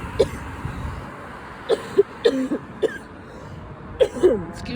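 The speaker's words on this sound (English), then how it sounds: "I got a bad cough" Several short harsh coughs from a man with a bad cough, spaced irregularly over a few seconds, close and fairly loud against a quiet room background.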